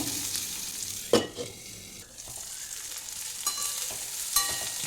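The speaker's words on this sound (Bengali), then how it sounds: "উচ্ছেটা খুব ভালো করে ভেজে নিয়েছি" Bitter gourd pieces fry in a pan over medium-low heat, a soft continuous sizzle broken by several louder knocks and scrapes of stirring, heard close with no voices.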